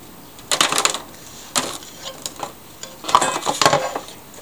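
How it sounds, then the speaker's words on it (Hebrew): Slices of a large onion drop into a baking tray as light clinks and rattles, with several short clusters of metallic tapping and handling close by and no speech. "אני שמה בתבנית בצל אחד גדול שחתכתי ככה לפרוסות"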